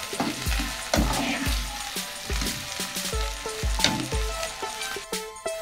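Finely chopped tomato fries and roasts in a pan for dal chana, a steady sizzle under repeated rhythmic scraping of a spoon that stirs it roughly once a second, close and loud with no talking.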